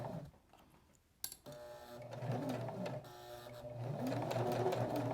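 Nearby, a sewing machine steadily stitches a circle around a small fabric car coaster, with a continuous motorized whir. A click sounds once before the stitching starts, and the machine then runs on without pause, with no talk.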